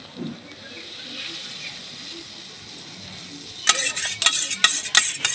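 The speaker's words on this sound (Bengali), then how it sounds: "জলটা একদম ফুটে গেছে এবারে আমি এই ডিমটা দিয়ে দেব" An egg goes into a pot of boiling water, a low bubbling simmer at first, then a sudden burst of louder clattering and splashing that continues in uneven bursts.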